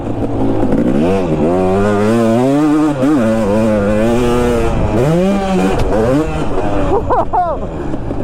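Two-stroke dirt bike engine revving hard while riding a track, a loud, raspy, close-up whine that climbs and drops repeatedly with gear changes and throttle bursts.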